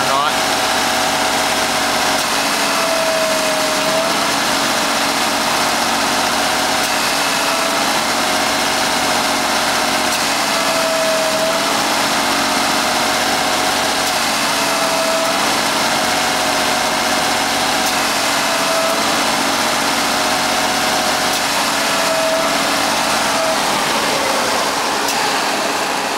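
Car engine running steadily near idle during a backyard auto air-conditioning recharge, a constant loud hum with slight rises in pitch, no talk over it.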